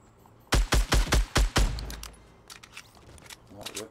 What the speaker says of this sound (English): there's a ton of shots over here